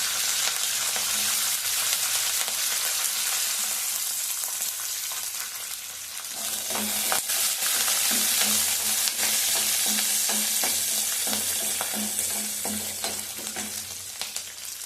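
Ginger and garlic sizzling steadily in hot oil in a pan while being stirred for a green chicken biryani, the continuous frying hiss joined by irregular scraping and clinking of a spoon against the pan, with no talking.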